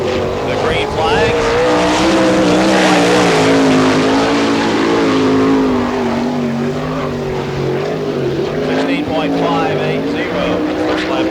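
Sprint cars of the All Star Circuit of Champions roar around the Barberville, Florida dirt track at Speedweek. A loud, sustained engine drone rises and falls as the cars come around to take the green flag, with an announcer talking over it.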